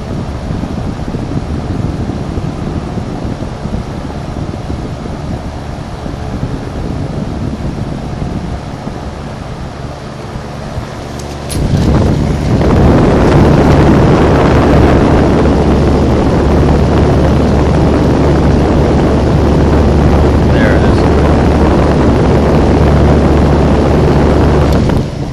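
The fan of a Philco Ford Noiseless Air Scan runs with a steady, close whooshing rush of air that jumps noticeably louder about halfway and then holds constant.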